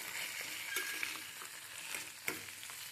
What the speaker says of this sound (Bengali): কুঁদরুইটা দিয়ে আমি ভালো করে নাড়াচাড়া করব, একটু ভাজা ভাজা করে নেব।